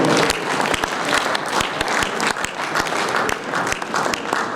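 An audience at an architects' annual general meeting and conference breaks into sustained, dense applause, loud and continuous throughout with many overlapping claps.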